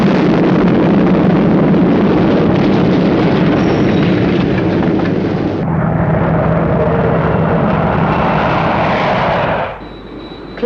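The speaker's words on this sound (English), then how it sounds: "There has been an explosion in Spectrum Maximum Security Building." A sustained, loud roaring rumble of a blast that cuts to a lower roar partway, then drops abruptly near the end, with no voices.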